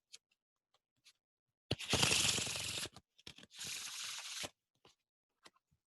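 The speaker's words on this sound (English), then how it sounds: "everyone's gonna hear you shuffling the deck" A deck of cards riffle-shuffled twice up close to a microphone, two bursts of rapid crisp flutter separated by a short pause, with a few soft clicks around them.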